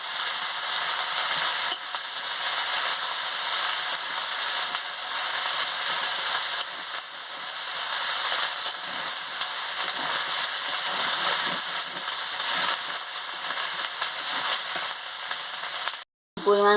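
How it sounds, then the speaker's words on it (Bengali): Garlic paste frying in a pan, a loud, steady close-up sizzle and hiss that carries on evenly throughout, breaking off sharply just before the end. "দিয়ে ভালো করে কষিয়ে নিচ্ছি।"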